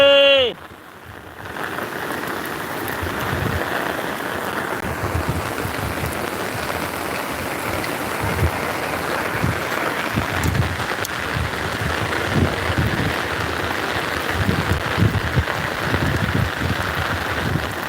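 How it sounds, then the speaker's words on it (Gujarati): Heavy rain pours down in a dense, continuous hiss, steady and loud for the whole stretch. "બહુ વરસાદ છે"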